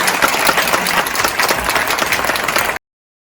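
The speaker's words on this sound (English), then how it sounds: "let's raise the roof and clap very loud and welcome our Year" A school audience claps loudly to welcome a Year 6 production, sustained dense applause from a crowd that fills the room and then cuts off abruptly.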